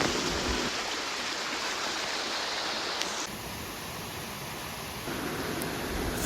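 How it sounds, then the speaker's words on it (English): A gushing jungle waterfall and stream on a forest trek near Jim Corbett, heard as a steady, loud broadband roar of rushing water that holds constant throughout with no voices. "The sound of the gushing water and the mist in the air make it totally worth the effort."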